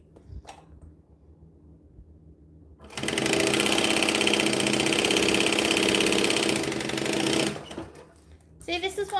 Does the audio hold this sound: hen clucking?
no